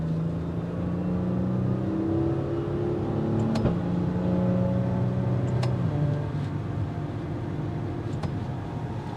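2022 Maserati Levante SUV accelerating in sport mode, heard from inside as a steady engine drone rising through the gears with audible shift breaks, moderately loud and continuous.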